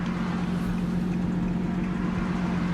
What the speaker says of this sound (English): the reason why I pulled you over is for your loud exhaust